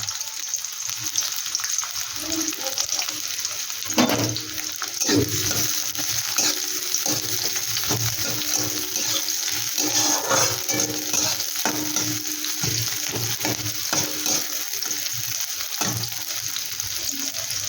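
Onion frying in oil in a kadai, a continuous close sizzle broken by scraping stirs and a few clatters, with no talk.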